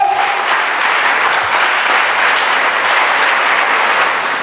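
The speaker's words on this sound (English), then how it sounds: "all the remaining students also deserve huge round of applause." Loud, sustained applause from a school ceremony audience, dense clapping filling the hall steadily throughout, with a brief whistle-like tone at the start.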